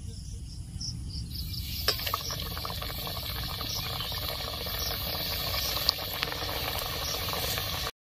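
Khasta gaja pastries deep frying two at a time in hot oil over low heat, a steady dense bubbling hiss throughout with occasional small pops.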